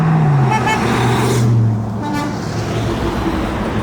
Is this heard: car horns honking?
yes